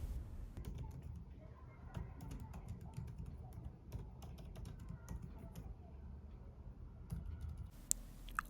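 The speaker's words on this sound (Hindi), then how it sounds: "इसमें आपको एप्पल का मैजिक कीबोर्ड देखने को मिलेगा जो कि सुपर्ब है टाइपिंग के लिए" Soft, quiet key presses on an Apple Magic Keyboard of a MacBook Pro 14 M1 Pro, a steady patter of light clicks running throughout at low level, with faint voice murmur in the background.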